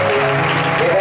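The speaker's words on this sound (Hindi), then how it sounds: "जोरदार ताली बजाओ" Applause from a church congregation during a healing prayer service, loud, steady clapping filling the whole second, with a voice and sustained musical tones underneath.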